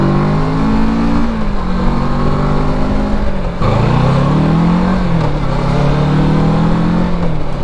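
Kawasaki Versys 650 motorcycle engine under way, a steady loud mid-pitched drone that rises in pitch, drops abruptly as a gear changes, then climbs again.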